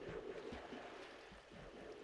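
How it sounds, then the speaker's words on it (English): Minecraft water rushes down through an item farm once a switch is flipped, a steady, fairly loud flowing wash with no voices. "flip the switch, the water will begin to come down"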